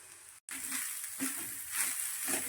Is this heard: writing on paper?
no